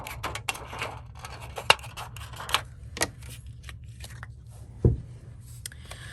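Scissors snipping a clear acetate sheet to size for a craft window, a series of sharp close crunchy cuts with quiet pauses between them, heard alone without talk.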